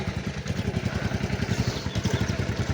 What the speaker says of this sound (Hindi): मोइस भाई साथ बाइक चलाओ हौली हौली